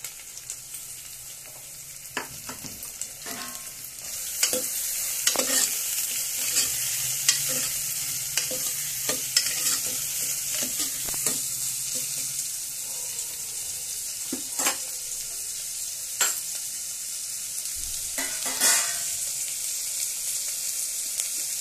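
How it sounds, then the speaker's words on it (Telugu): Onions frying in hot oil with cumin and mustard seeds, a steady bright sizzle running throughout, broken by scattered scraping stirs of a spoon against the pan, close and continuous with no talk. "జీలకర్ర ఆవాలు వేసుకున్న తర్వాత ఆనియన్స్ వేసుకోవాలి. Already oil వేడయింది."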